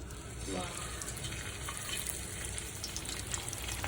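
Rice-flour-dusted pomfret sizzling on a khaapri clay tava, a steady close frying hiss with light crackle running throughout, while someone talks briefly near the start.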